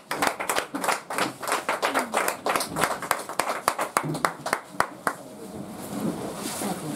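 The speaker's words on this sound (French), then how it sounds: "On acclame le Seigneur Jésus" A church congregation claps in acclaim of the Lord Jesus, a burst of sharp, fairly close handclaps in a quick irregular rhythm that thins out toward the end, with faint voices mixed in underneath.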